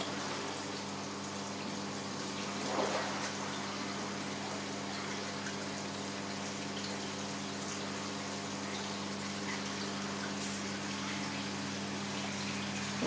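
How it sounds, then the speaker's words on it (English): A single aquarium pump runs in a planted tank, a steady low hum with a constant wash of water beneath it. It holds level throughout with one brief bump near the start and no talking. "So at the moment there's only one pump running."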